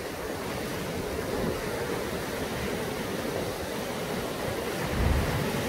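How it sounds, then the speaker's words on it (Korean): Heavy sea waves crash and wash continuously along the shore at Songjeong Jukdo Park, a steady roaring surf with a louder swell near the end and no voices. "여기 이래 보면은 지금 파도가 굉장합니다"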